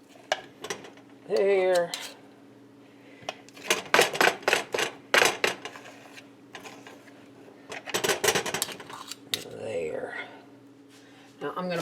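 Metal spoons scoop food into a serving dish for a budget Thanksgiving dinner, giving intermittent clinks and scrapes of cutlery against the dish, with a dog nearby and a person talking between the scoops.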